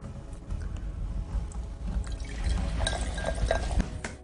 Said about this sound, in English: now we are going to pour the Coke